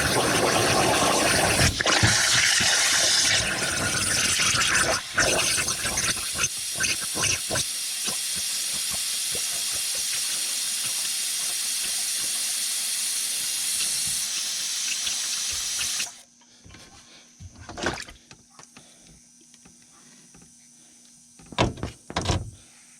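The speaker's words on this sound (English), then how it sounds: "See if I can flush that emergency drain pan and see if it drains itself." AC emergency drain pan being flushed with nitrogen, giving a long, loud, close gas hiss and rush of water that cuts off abruptly and leaves scattered knocks and clatters afterward.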